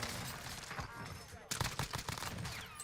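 Rapid-fire gunshots from Call of Duty Warzone gameplay crackle in quick, dense bursts, the volley growing sharper partway through, with a voice talking over them.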